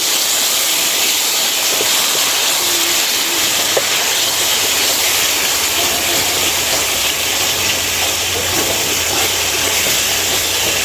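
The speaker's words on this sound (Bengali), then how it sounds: "মশলাগুলো আমি ভালো করে কষিয়ে নেব মশলাগুলো আমার ভালোভাবে কষানো হয়ে গেছে" Spices fry in hot oil for khichuri, giving a loud, continuous hiss and sizzle that stays steady throughout with no talking.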